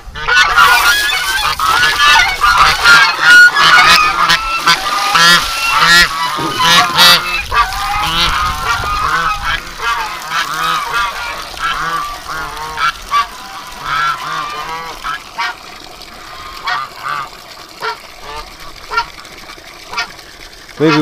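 Geese honk repeatedly in a dense, loud flock chorus outdoors on a clear day, the calls strongest early and thinning toward the end, with a voice speaking briefly among them.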